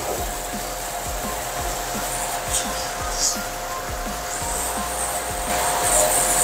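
Pressure washer jet cleaner blasting moss off a wall, a steady loud hissing spray with a motor hum and rhythmic low thumps underneath, running continuously without speech.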